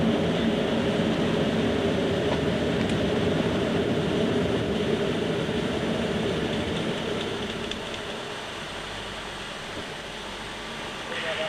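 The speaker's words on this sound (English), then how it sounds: "That airflow noise we were getting before has now diminished." Steady broadband airflow roar on a Concorde flight deck as the nose and visor are raised for high-speed flight, loud and continuous, easing noticeably in level toward the end.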